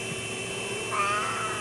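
A house cat lets out a meow indoors, one short mid-pitched call rising briefly over a constant hum of background noise.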